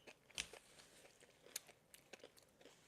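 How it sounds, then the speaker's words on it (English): Crunchy pistachio-filled chocolate bitten and chewed up close, several sharp crackling crunches spaced irregularly over quiet background, no talking. "Love the crunch."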